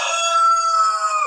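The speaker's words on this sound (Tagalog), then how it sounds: "Tilaok ng manok." A rooster crows once, loud and close, a sustained harmonic call lasting the whole brief moment, heard alone.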